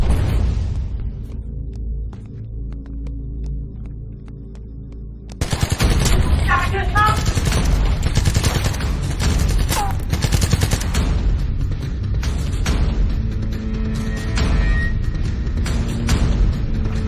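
Sudden bursts of gunfire break out after a quiet stretch, with rapid automatic volleys and sharp shots crackling loudly and continuously, mixed with shouting and commotion in a dramatic scene.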